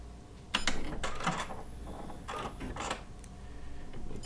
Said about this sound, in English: I'm going to do a tie-off stitch, and then thread cut.